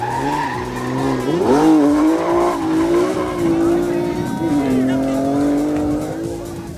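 BMW Super Modified race cars brake hard into a turn at a hill-climb race, tires squealing loudly and continuously over high-revving engines, with an announcer commentating over the noise.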